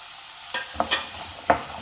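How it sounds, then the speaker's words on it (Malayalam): Three slit green chillies fry in oil with carrots for an Onam carrot kalan. A steady, close hiss of hot oil carries a few quick scraping stirs, with no voices. "ഇത് ഈ എണ്ണയിൽ തന്നെ ഒന്ന് ചെറുതായിട്ട് വാടി വരണം. ഇതിലേക്ക് 3 പച്ചമുളക് കീറിയതും ചേർക്കാം."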